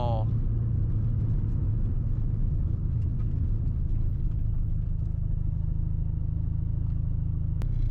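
A Mazda FC RX-7 rotary engine idling with a steady low rumble and a faint extra noise at idle, heard up close and continuous throughout.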